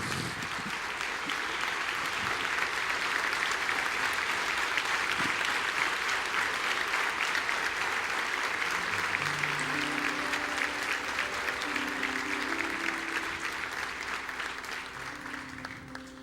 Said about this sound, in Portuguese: Vamos colocar em pé e dar uma forte salva de palmas ao Senhor.